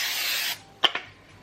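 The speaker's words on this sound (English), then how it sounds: "I'm gonna go over it again with the spray," Extra virgin olive oil cooking spray hisses onto a pan in one loud, even burst of about half a second, followed by two quick clicks and taps as the can is set down.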